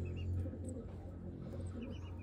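Low, soft cooing from a Taiwan pigeon, a steady murmuring coo that runs through the whole stretch with faint chirps above it and no talking.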